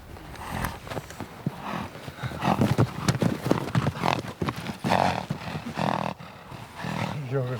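Horses on the open steppe being caught and broken in: clattering hooves, snorts and shrill neighs in a chaotic, loud jumble close by, with a narrating voice over part of it.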